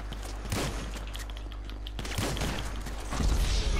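Gunfire in a GTA 5 team deathmatch, three loud bursts roughly 1.5 seconds apart, each a sharp crack with a short rumbling tail over steady low game background.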